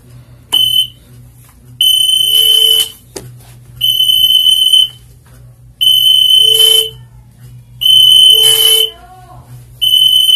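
A fire alarm system buzzer set off by a pull station sounds in loud, repeated bursts of about a second each, separated by short pauses, close and harsh with no one speaking.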